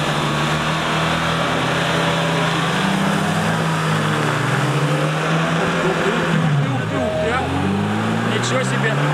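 A Nissan Patrol's engine revs hard while stuck off-road in mud, a loud, continuous roar that rises and falls in pitch, with voices faintly audible underneath.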